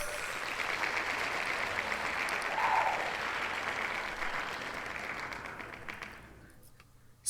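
Applause and cheering played as a sound effect on a challenge podcast, a steady wash of clapping and crowd noise that holds for several seconds and then cuts off abruptly, with no talk over it.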